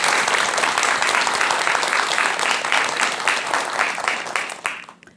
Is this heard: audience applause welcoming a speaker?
yes